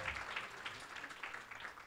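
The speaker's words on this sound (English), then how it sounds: "let's get a round of applause for him" Scattered, fairly quiet applause from the audience at an alumni talk, a thin patter of clapping that holds evenly through the short stretch with no speech over it.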